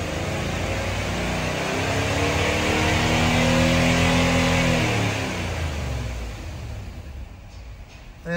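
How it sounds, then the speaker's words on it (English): A cheap, neglected car engine being revved from idle, a loud close rumble that climbs smoothly to a peak and then eases back down, with no talk over it. "let's just run up the RPMs"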